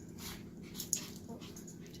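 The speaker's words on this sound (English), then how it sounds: "What could be more fun than watching puppies play?" Puppies playing, with soft whimpers, snuffles and panting close by, one brief sharper squeak, quiet and intimate over faint background hum.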